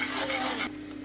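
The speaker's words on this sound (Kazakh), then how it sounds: "Енді араластыра отыра қайнатқанға дейін жеткіземіз." Custard cream being stirred in a pot as it thickens toward a boil, a close, steady scraping and swishing for about half a second before it drops away to a quieter simmering hiss.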